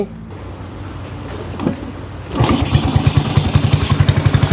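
A Honda Wave S motorcycle fitted with a Wave R ignition box starts up after a quiet lead-in, then settles into a loud, close, rhythmic idle with evenly spaced putting exhaust pulses.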